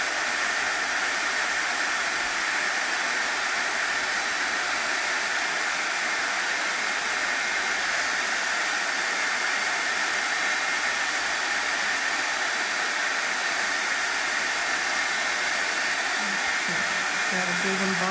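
A heat embossing tool blows hot air onto a greeting card, a loud, steady, close rushing whoosh like a hair dryer that runs continuously with no break.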